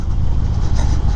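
A 2013 Harley Davidson Dyna Fat Bob rumbles steadily on a ride in Northern California, with a loud, continuous low engine drone and no voices.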